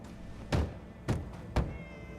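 Cat in the video game Fallout 4 meowing three times in steady succession, short clear calls heard close over a low game ambience.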